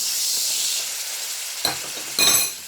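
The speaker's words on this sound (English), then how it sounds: "now we're going to add 1 tablespoon of plain flour" A tablespoon of plain flour is stirred into a pan over low heat, giving a steady soft sizzle and hiss with a couple of brief louder scrapes near the end.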